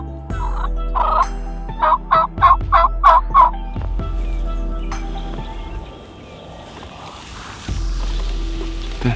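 A wild turkey tom gobbles loudly in a rapid rattling burst of several notes, followed by quieter ambient rumble and a faint sweeping tone.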